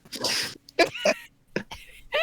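A person sneezes during a tabletop role-playing session, one sharp burst followed by short voiced breaths and brief chatter from others nearby.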